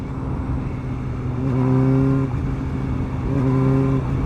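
A Kawasaki ZX4RR motorcycle with a freshly fitted aftermarket muffler revs up twice, each high, tonal throttle blip rising and holding for about a second over a steady idle, close and loud.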